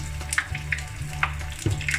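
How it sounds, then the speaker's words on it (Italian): Sweet fritters fry in oil, several at once, giving a soft steady sizzle with scattered small pops and crackles close at hand. "Mentre si frigge poi le girate finché devono essere dorate."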